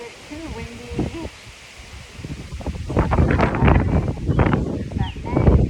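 Steady wind rushes and buffets a microphone, growing louder and gustier in the second half, with faint rustling and some background voices.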